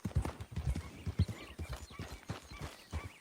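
Horse hooves clip-clop in a steady walking rhythm in Red Dead Redemption 2, close and clear, with faint background game ambience.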